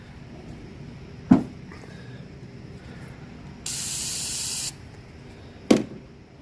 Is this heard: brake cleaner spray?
yes